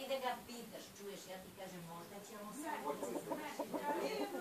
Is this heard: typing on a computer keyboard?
no